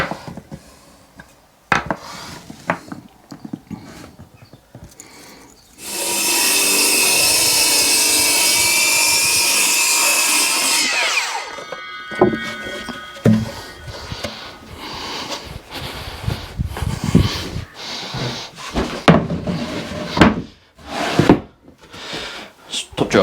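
A power saw cuts through a wooden worktop around a wire while a shed is being fitted out, making a loud, steady high-pitched whine for about five seconds. Brief talk and handling clatter come before and after it.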